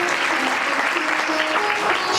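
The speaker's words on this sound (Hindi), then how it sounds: "ताली बजाओ ना, दबा कर" An audience claps firmly and steadily at a Hindu religious discourse, a dense continuous burst of many hands close by with no talk over it.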